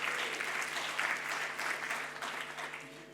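A comedy club audience gives a stand-up comedian a steady round of applause, dense clapping heard at a modest distance throughout.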